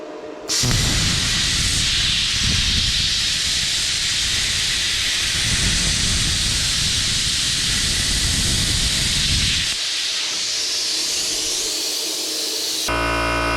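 Plasma cutter working around a rivet in a vehicle frame, a loud continuous broadband hiss that runs steadily for about nine seconds, then thins to a quieter airy rush before stopping.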